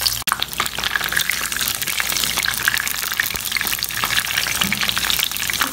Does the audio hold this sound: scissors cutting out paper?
no